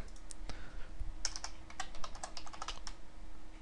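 Fingers type on a computer keyboard while entering C++ code, a steady run of quick, close, crisp key clicks with a few louder taps and no talk.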